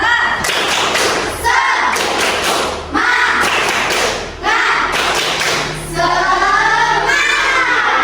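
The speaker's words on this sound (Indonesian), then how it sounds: "Sekarang coba tepuk semangat." Primary pupils in a fourth-grade maths lesson perform a rhythmic group clapping routine: loud, close bursts of patterned claps and thumps separated by short pauses, with children's voices chanting and shouting between and over the beats.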